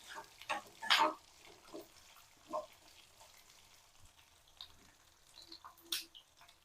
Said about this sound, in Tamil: நல்லா எண்ணெயில் கொஞ்சம் வதங்கட்டும் பெருங்காயமா.